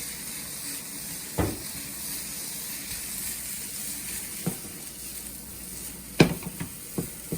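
Chicken nasi goreng sauce stirred in a hot pan gives a steady low sizzle and hiss, broken by a few sharp scraping knocks of the spoon near the start and the end.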